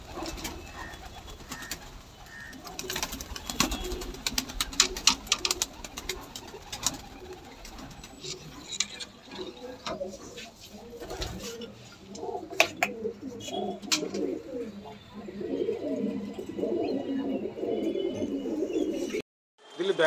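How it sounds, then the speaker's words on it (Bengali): Madrasi pigeons coo repeatedly indoors in a pigeon loft, soft throaty cooing layered with wing flutters and light rustling, while people talk nearby. "এত সুন্দর সুন্দর পায়রা তোমার ঘরে"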